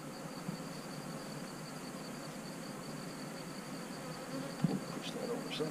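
Bees buzz in a thin, steady drone against a hiss of outdoor background noise, with a brief knock near the end.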